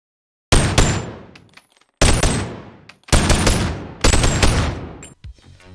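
Four loud bursts of rapid automatic gunfire from a virtual reality first-person shooter game, each volley cracking sharply and trailing off before the next, with no talking.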